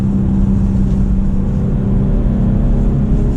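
A BMW M340i xDrive with an 8-speed ZF transmission pulls hard on a winter road, its engine a loud, steady low drone with constant road rumble heard from inside the cabin.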